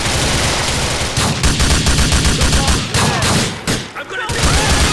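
Gunfire from a Glock pistol in a video game comes in rapid, loud bursts, with a dense run of shots that briefly pauses near the end, while players shout over it.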